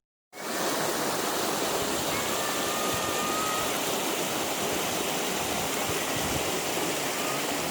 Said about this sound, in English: Waterfall under a gum tree, red gum tree. This is the top of the waterfall.